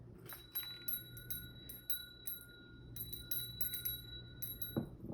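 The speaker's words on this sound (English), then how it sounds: "I'm going to ring a bell." A small bell rung to clear energy before a pick-a-card tarot reading, its clear sustained tone ringing steadily and fading slowly, with a soft touch near the end, close and quiet with no talk.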